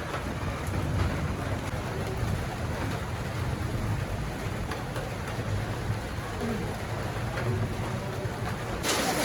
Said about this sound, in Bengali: দেখেন এই যে শিলাবৃষ্টি শুরু হয়েছে